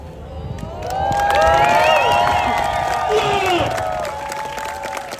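Street spectators at the Edinburgh Fringe Festival 2024 cheer a dangerous stunt, with whoops and shouts rising over scattered clapping, swelling to a peak midway and then easing off, fairly near.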